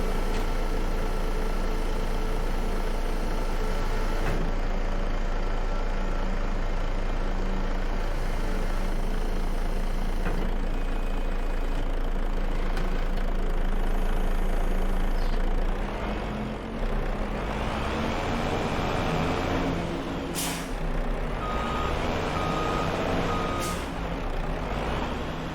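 In Farming Simulator 25, a truck idles with a low engine drone while its reversing alarm beeps in a regular repeating pattern, joined by a sharp hiss of air brakes near the end.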